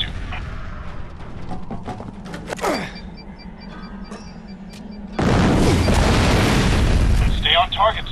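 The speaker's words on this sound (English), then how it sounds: "Toss a grenade in the window above." Grenade blast in the Fracture video game campaign: a deep, loud boom that sets in abruptly and roars on as a sustained rumbling wash, after quieter game ambience and a voice talking.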